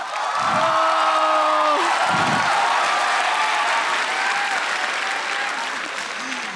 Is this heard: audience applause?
yes